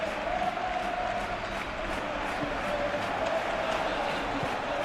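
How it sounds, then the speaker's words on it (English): A stadium crowd in the PES 2021 football game keeps up a steady, distant roar with swelling cheers and faint applause, while a commentator's voice runs over it. "the crowd are reacting to that now"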